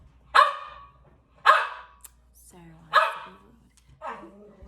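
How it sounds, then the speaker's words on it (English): A dog barks four times at a steady, spaced pace, loud and close, with faint background hum between barks. "so Sarah stopped barking"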